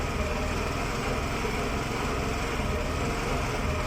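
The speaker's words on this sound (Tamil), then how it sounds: "வண்டி ஆட்டோமேட்டிக்காக ரேஸ் ஆகுது" The engine of a faulty Honda Activa scooter races on its own with a steady, dense buzzing roar that holds at one level the whole time. There is no talk over it.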